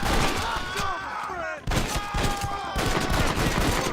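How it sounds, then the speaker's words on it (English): Rapid gunfire from the Western video game Red Dead Redemption, loud repeated sharp shots in quick bursts with a brief lull in the middle, under background game sounds and faint voices. "guns are very loud"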